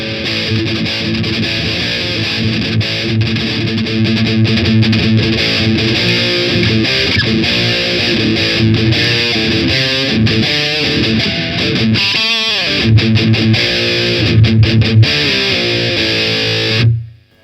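Distorted electric guitar played through a Marshall Valvestate 8080 amplifier with the contour control turned down, loud and continuous sustained chords and riffs with no pauses, alone without talk.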